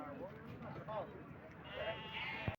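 A lamb at the Duggatti weekly sheep market bleats in a few short, wavering cries, faint and close, mixed with people talking nearby amid the market bustle.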